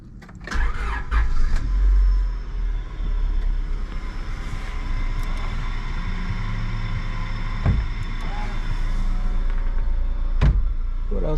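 A Honda Orthia engine cranks and catches, then settles into a steady idle, with a few clicks and thumps along the way.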